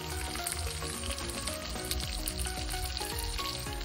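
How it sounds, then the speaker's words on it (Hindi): Garlic, ginger and green chili sauté in a hot pan for street-style veg chowmein, a steady soft sizzle with small crackles running throughout, fairly quiet and close, with no voices. "हल्का सा भूनना है हमें, सॉटे करना है हल्का सा।"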